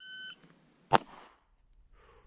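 A short electronic shot timer beep sounds at the start, followed almost at once by a sharp, loud handgun shot and a fading echo.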